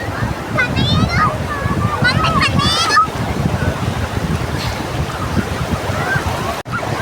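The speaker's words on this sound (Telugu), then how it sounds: "సాయంత్రం అవుతున్న కొద్దిగా అల్లలాది స్పీడ్ పెరిగిపోతుంది." Evening ocean waves at Bapatla beach rush in with a loud, steady broadband roar and wind buffeting the microphone, while voices and excited calls carry over the surf.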